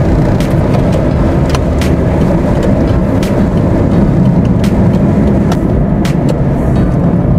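A car drives along the Dhaka to Mymensingh highway at about 80, with a loud, constant road and engine roar and faint ticking thumps from the tyres or wipers.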